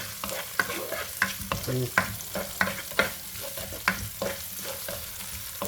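Pork and garlic stir-frying in a hot pan, the fat sizzling steadily while a utensil scrapes and knocks against the metal every second or so. The sound is close and busy, and no one speaks.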